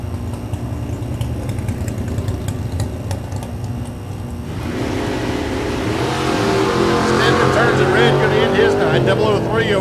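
At a Mid America Dragway drag race, a Chevrolet S10 pickup and a Camaro idle with a rough engine rumble, then roar louder and rev hard through the second half, with a voice talking over the engines.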